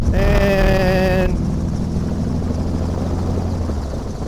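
A gyroplane's engine and rotor drone loudly and continuously at close range as the aircraft lands and idles in, with a high whining tone in the first second before the sound settles to a steady low rumble.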